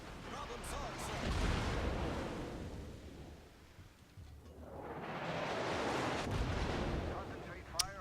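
Heavy naval guns firing at an enemy warship in a video game, with deep booming blasts swelling and rolling over a wash of sea noise in two long waves and a sharp crack at the end.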